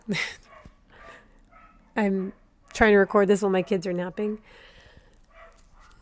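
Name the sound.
dogs barking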